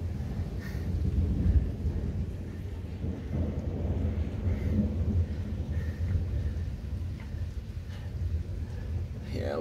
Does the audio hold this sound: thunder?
yes